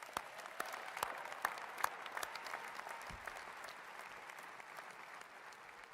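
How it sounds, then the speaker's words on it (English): Sustained applause from an audience at a university athletics commencement ceremony, steady clapping filling the hall for several seconds with scattered louder claps and no voices over it. "Give them a round of applause."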